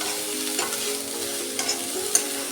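Baby corn and capsicum fry and get stirred in oil in a pan, a steady close sizzle with scraping stir strokes and a few sharp clinks from a spatula, with no talking.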